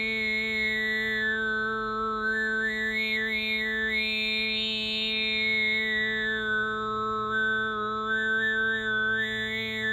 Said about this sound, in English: But if you want to do overtoning, it's 2 sounds at the same time that you can learn how to do through shaping your mouth